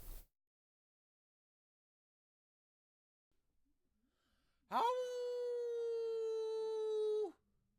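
A person vocally imitating a wolf howl for a Halloween soundscape: one sustained, slightly falling tonal howl of about two and a half seconds, loud and close, following a long stretch of near silence.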